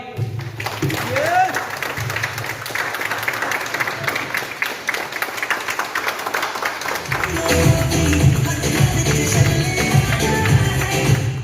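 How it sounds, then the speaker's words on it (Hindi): An audience at a talk on direct selling breaks into sustained applause, a dense mass of many hands clapping that swells louder toward the end, with voices and cheers mixed in. "एक बार तालियां बजा दीजिएगा"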